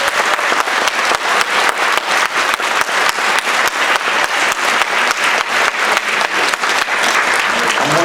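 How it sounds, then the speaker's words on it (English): A school audience applauds a music teacher at a South Brunswick district event. Loud, dense clapping from a large crowd continues unbroken throughout. "Can we give Ms. Johnson a round of applause?"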